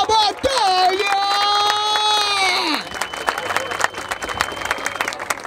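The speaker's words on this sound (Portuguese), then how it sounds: "Palmas pra essa batalha!" A crowd at a rap battle final in Barueri claps and cheers, with loud whistles and shouts up front giving way to scattered, uneven applause that continues more quietly.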